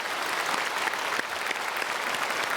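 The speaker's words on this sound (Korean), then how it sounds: "박수로 축복하겠습니다." A church congregation at a Sunday worship service applauds the choir, with steady, dense clapping filling the hall continuously.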